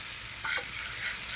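Butter sizzling steadily in a hot pan, a dense even hiss close by with a brief clink partway through.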